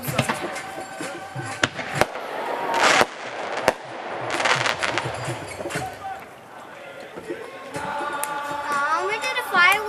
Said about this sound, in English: We did the fireworks.